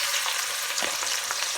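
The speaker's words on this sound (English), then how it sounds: "as the oil is hot now, we're going to put the onion in it." Onion frying in hot oil for pumpkin soup, a loud, continuous crackling sizzle close by with small bursts of spatter throughout, no talking.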